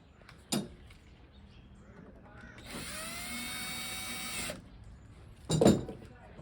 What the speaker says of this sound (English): drill a hole for this guy right there